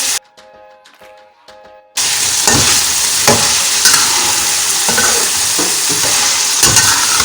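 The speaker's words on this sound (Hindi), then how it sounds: "इसको अच्छा सा हम फ्राई करेंगे।" Spices with asafoetida hit a hot oiled pan for keema with white lobia, a quiet lead-in giving way to a loud, steady sizzle and hiss with occasional stirring scrapes, close up.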